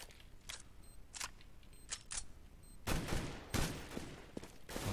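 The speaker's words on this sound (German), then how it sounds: "Kenny, schöner Schuss." Sharp bursts of gunfire in the video game Counter-Strike on the map de_inferno crack in quick clusters, a few isolated shots and then a denser volley, fairly close and punchy.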